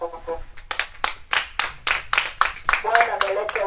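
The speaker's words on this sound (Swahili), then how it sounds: "Shangilie Bwana kwa makofi." A church congregation claps hands in a steady, rhythmic series of about a dozen loud, even beats, with voices under the clapping.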